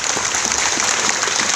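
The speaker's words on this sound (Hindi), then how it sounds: "एक बार जोरदार तालियां" Audience applause after a call for loud clapping at an educational seminar honoring an SDM officer, a dense steady wash of many hands clapping close and continuous, with no pauses.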